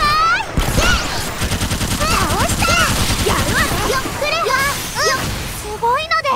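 Gunfire aimed at the player in the Sword Art Online MMORPG game, heard as rapid crackling bursts mixed with voices and whooping game effects, loud and close.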